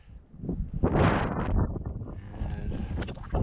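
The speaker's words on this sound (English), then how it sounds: "It's a pretty strong wind this morning." Strong morning wind on a mountain ridge near a snowfield blasts across the microphone in loud, surging gusts, peaking in a heavy roar before easing into a steadier rushing buffet.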